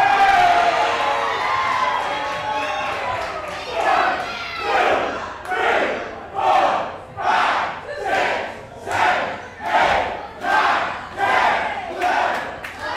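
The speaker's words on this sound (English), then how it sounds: "This crowd rallying behind Gangrel as he continues to rain down the punishment" Wrestling crowd at a CCW Alive event rallying behind Gangrel, a loud mass of cheers that turns into rhythmic chanting, about ten swelling pulses each roughly a second apart, close and filling the hall.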